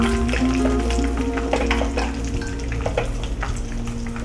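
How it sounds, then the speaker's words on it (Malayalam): Continuous loud sizzle of shallow frying spiced meat for beef vindaloo in a pan coated with masala, with occasional stirring scrapes and clinks close by. "ജസ്റ്റ് ഒന്ന് ഷാലോ ഫ്രൈ മതിയാവും."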